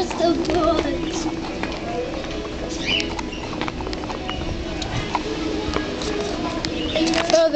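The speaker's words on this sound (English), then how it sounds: "Okay, guys, the birds are just up here." Small birds chirp and twitter in a Petco pet store's bird section, many short calls scattered over a steady busy indoor hubbub with shuffling and footsteps, no clear talk.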